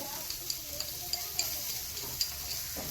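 Onions and capsicum fry lightly with a little salt in a pan, giving a soft, steady sizzle with faint ticks of stirring, close by and without voices.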